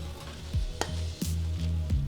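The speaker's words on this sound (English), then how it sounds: "And with those tongs, I'll just mix it around." Tongs toss pasta in a pan of cacio e pepe, making quiet wet stirring squelches and a few clicks over a soft steady sizzle, close by, with no voices.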